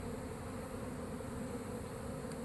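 Honeybees drone in a dense, steady buzz during a removal from a cinder block wall in Lakeland, Florida, a close, even hum with no voices.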